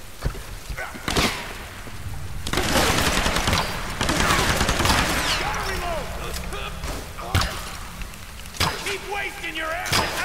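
Gunfire in the video game Tomb Raider (2014): sharp bursts and single shots crack repeatedly over several seconds, mixed with thuds and impacts, with voices shouting in combat between volleys.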